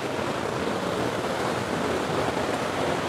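A waterfall in China after rain gives a dense, constant roaring rush of water, close and steady with no voices.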